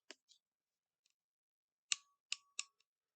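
A ratcheting crimping tool for double crimp terminals gives a few sharp, dry clicks: two faint ones early, then three louder snaps in quick succession and a soft final tick, close by in a quiet room.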